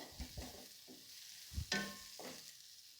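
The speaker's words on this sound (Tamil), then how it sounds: "இதை நம்ம நல்லா எண்ணெயிலேயே வதக்கலாம் அப்போ தான் டேஸ்ட்டாக வரும்" Chili powder sautéing in oil in a pan for a drumstick fry, heard as quiet stirring and scraping in several short strokes over a low sizzle, no talking.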